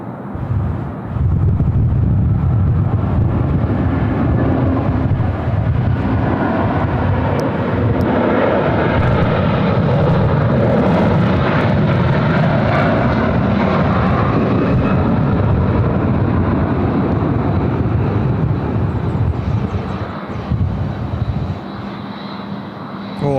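A China Southern airliner roars through a long takeoff roll with limited headwind, a steady, loud jet rumble that swells and holds before easing off near the end, with some wind buffeting on the microphone.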